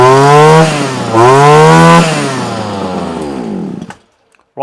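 A Komatsu Zenoah strimmer engine runs loud and close, revving up twice in sharp rising surges before dropping back and cutting off near the end.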